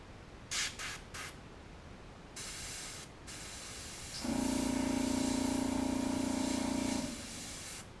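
Paint sprayer turned down to low pressure, tested on the edge of a workbench: a few short hissing bursts, then a steady close spray hiss with a droning pump tone for about three seconds.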